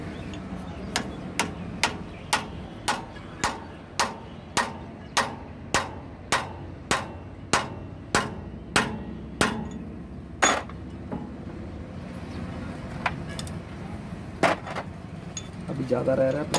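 A Bharat Benz truck wheel hub nut is tightened with a steady series of sharp metallic hammer strikes, about two per second and near and loud, then a few scattered clanks with a voice speaking in between.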